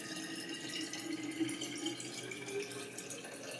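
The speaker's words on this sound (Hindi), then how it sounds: "तो ये गर्म पानी को थर्मस में रख देते हैं" Hot water is poured into a thermos, a quiet continuous trickle and gurgle of liquid filling the flask. It is close and fairly faint, with no one talking.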